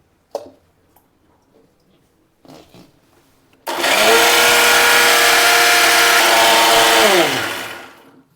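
A mixer grinder grinding dosa batter roars into a loud, steady high-pitched whir for several seconds, then winds down, after a few faint knocks and clatters.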